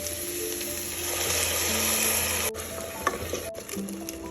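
Onion and ginger-tomato paste fry in a pan for a chicken dish, a bright steady sizzle with stirring scrapes and a couple of knocks, no talking.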